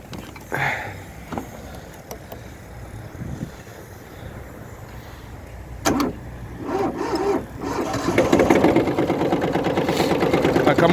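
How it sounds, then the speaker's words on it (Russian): A 22 hp tractor engine starts in frosty weather with a brief cranking whir, then catches and settles into a steady, close, rattling idle that grows louder toward the end. "Давайте запустим трактор."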